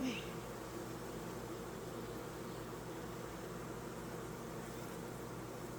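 Honey bees buzz in a steady, dense drone during a spring hive inspection as frames are handled, the hum continuous and close throughout with no speech.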